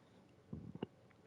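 A short burp from a man chatting casually about wrestling, heard as a few quick, low, guttural bursts close to the mic in an otherwise quiet room.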